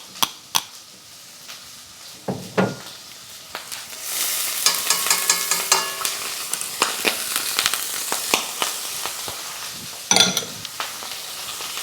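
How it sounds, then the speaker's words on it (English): Mirepoix sautés in a pan, a dense crackling sizzle that swells after a few seconds and holds steady, broken by spoon scrapes and clicks against the pan, nearby with no talking. "So you saute the Mirepoix, and that blends the flavors."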